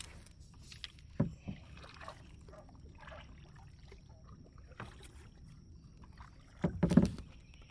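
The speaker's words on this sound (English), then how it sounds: "I'm gonna paddle forward and just see if I can naturally drift" A kayak is paddled forward on water while snakehead fishing, with a few soft paddle dips and splashes spaced across the stretch and a louder, closer splash near the end.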